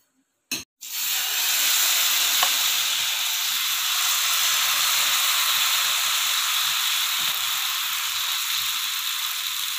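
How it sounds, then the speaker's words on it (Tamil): Wheat flour masala dosa batter hitting a hot pan, giving a sudden sharp onset after a short pause, then a steady, loud, broadband sizzle and hiss that holds almost unchanged to the end, with no voices. "நம்ம இப்போ தோசை ஊற்றி காட்டுவோம்."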